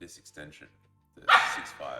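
A pet dog barks sharply and loudly for one burst in a home setting, right after a person's brief speech, with a softer yelp trailing off.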